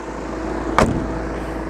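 A hot Volkswagen Passat B7 Alltrack 2.0 TDI diesel idles with its radiator fans running, a steady close whirring hum with a single brief sharp click partway through.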